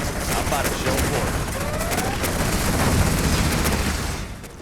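Rapid gunfire and explosions in the strategy video game C&C Generals, with dense overlapping shots and booms forming a steady loud battle din, while a voice talks over it.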